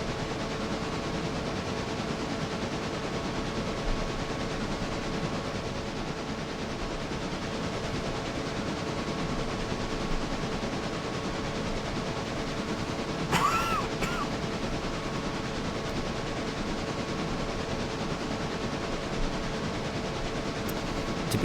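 A long freight train hauled by SD7 diesel locomotives rolls on steadily in the Railroader video game, its engines holding a constant rumble and hum with a faint hiss near the middle and no speech.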